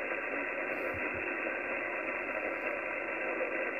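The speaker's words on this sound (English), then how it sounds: "See the noise floor come up?" Steady broadband radio static hiss fills the band with the antenna noise canceller switched off, a dense even noise floor heard through a receiver on a tuned loop antenna, continuous and fairly loud with no voices.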